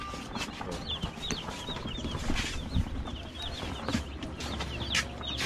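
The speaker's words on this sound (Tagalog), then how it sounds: "Dumating na pala yung sisiyo nila." Many broiler chicks peep constantly in quick, high chirps at a farm supplier, a dense, busy chorus with occasional clucks and background clatter.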